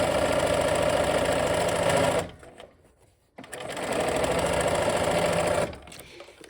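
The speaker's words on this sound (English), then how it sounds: "So let's go sew those together." A sewing machine stitches quilt pieces together with a steady, fast mechanical whir up close. It runs for about two seconds, stops briefly, then starts again for another run.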